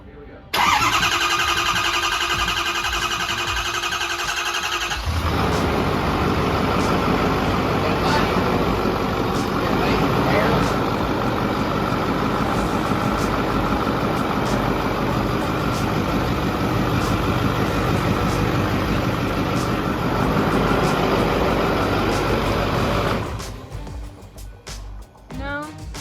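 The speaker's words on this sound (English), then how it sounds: "Now we're gonna fire it up." A freshly rebuilt car engine cranks briefly, then fires and settles into a steady, loud idle that runs on for about twenty seconds before cutting off, with clanks and handling noises near the end.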